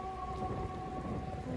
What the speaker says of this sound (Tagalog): Hintayin nating humupa ang malakas na ulan